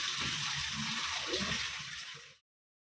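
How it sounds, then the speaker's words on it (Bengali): Tap water runs steadily over dishes being rinsed in a home kitchen, with a continuous hiss broken by faint clatter, then stops abruptly when the tap is shut off. "একটু বাসন আছে ভিজে ফেলি।"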